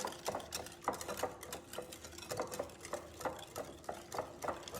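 A spoon stirs a homemade barbecue sauce mixture in a bowl, making quiet, rhythmic scraping and clinking strokes that repeat steadily at close range with no talk.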